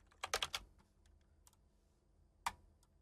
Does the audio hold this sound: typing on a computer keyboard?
yes